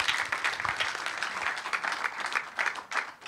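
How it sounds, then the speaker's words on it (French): Audience applause after a talk at a sailing-competition conference, a steady dense clapping that fills the whole stretch at moderate level with no voices over it. "On peut applaudir encore une fois Nicolas."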